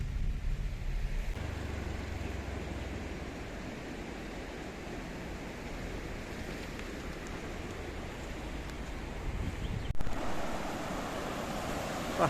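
Water from a forest river and waterfall rushes in a steady, broadband roar with wind buffeting the microphone, continuous throughout with a slight surge near the end.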